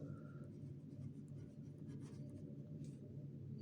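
A pen writes out a math solution for a quadrilateral area exercise, producing soft, continuous scratching strokes over a low background hum.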